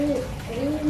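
Young merpati kolong racing pigeons give a brief, soft cooing call close by over steady low background noise.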